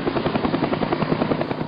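Helicopter rotor noise, a loud, close, steady rhythmic thumping beat heard alone without talk.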